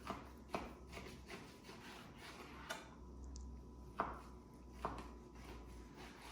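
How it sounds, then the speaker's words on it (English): A Victorinox knife chopping beef chuck on a board for a brisket and chuck burger blend, giving faint, sparse, irregular thuds and taps over a low background hum. "So I'll just go through and kind of chuck this up real quick here."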